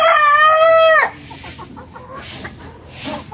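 A large rooster, around 2.5 to 3 kilograms, crows loudly once, a strong harmonic call lasting about a second, followed by quieter clucking and farmyard bird sounds.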